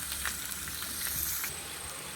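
Two cups of washed, drained rice fry in oil in a pan over a low flame for neychor, a faint, soft, continuous sizzle with light stirring scrapes.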